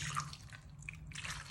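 Canned beef broth pours over potatoes and ranch seasoning in an open slow cooker, a steady close liquid splash and trickle running alone for under two seconds.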